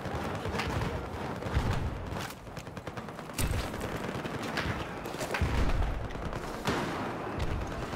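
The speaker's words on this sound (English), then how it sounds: "Mortar!" Mortar and other weapons fire through a battle in the video game Battlefield 4. Loud thuds and bursts repeat at irregular intervals over a constant rumble of combat.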